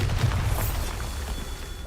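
A Bombarda explosion spell goes off in the video game Hogwarts Legacy, a heavy, rumbling low boom that lingers as a sustained roar throughout, with no voices.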